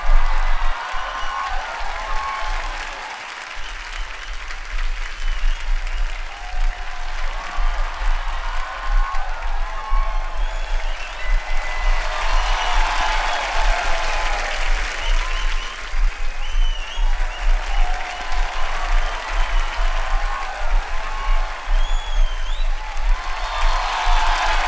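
A studio audience on a comedy talk show applauds loudly and steadily to welcome actress Raveena Tandon, a dense, sustained wall of clapping with occasional cheers that swells and holds for the full stretch.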